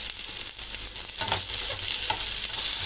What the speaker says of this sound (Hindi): हमें इन सबको हाई फ्लेम में भूनना है।